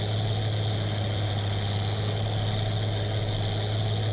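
A tractor's steady, low engine idle in Farming Simulator 19 hums continuously with a constant drone and a faint whine on top, no voices present.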